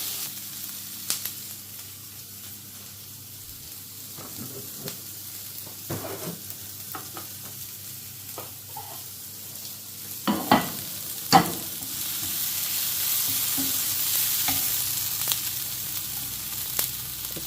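Sliced onions frying in a pan with a pinch of turmeric powder: a soft, steady sizzle with scattered scraping knocks of a spatula that cluster into a brief burst of stirring, then a louder, even hiss toward the end.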